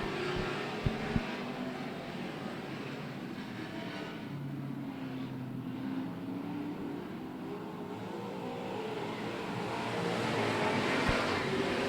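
Race cars roaring off together at the start of an oval track race, a steady loud wash of engines building near the end, with a couple of sharp clicks early on.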